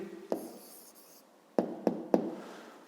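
Writing an answer by hand on paper for a fifth-grade maths exercise, a few sharp pen taps and strokes against a quiet background.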